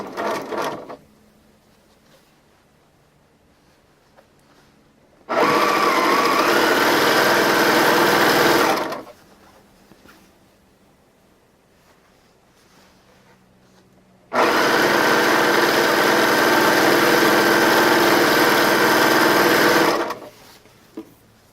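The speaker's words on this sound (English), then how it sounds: "And then I'm just going to sew it on." A sewing machine runs in two sustained bursts of about three and six seconds stitching a cuff onto a dishtowel, a fast steady whirring hum, close, with quiet pauses between.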